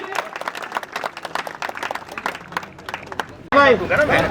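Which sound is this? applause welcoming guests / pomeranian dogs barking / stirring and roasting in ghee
applause welcoming guests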